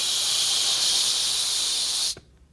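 A steady, loud breath drawn in to fill the lungs during a trumpet breathing exercise, a bright airy hiss held for about two seconds before stopping abruptly, with no talking.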